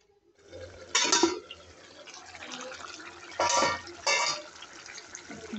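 Water poured into a pan of kohlrabi curry, a few short splashy bursts of liquid over a quiet, soft bubbling background.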